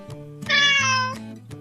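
A single cat meows once, a clear drawn-out call rising then falling, moderately close and alone against a faint steady background tone.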